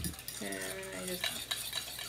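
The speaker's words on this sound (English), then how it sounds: "whisk this all together." Coconut sugar and chow mein sauce being whisked in a bowl, a steady rapid scraping and stirring with faint clinks of the whisk, close and continuous without talk.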